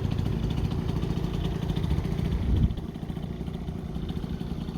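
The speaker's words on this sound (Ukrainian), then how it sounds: "Це двохтактний двигун в порівнянні з чотирьохтактним інжектором" Yamaha Jog SA16 two-stroke scooter engine idling steadily nearby, a low, even buzzing drone with light mechanical clatter that swells briefly and then settles back to a constant running note.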